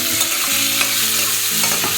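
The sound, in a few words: frying bay leaves and chillies in a pan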